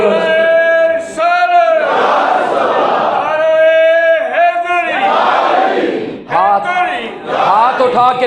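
A large religious gathering honoring Imam Hussain roars a slogan back in unison, several loud massed shouts with brief breaks between them, the voices rising and falling together.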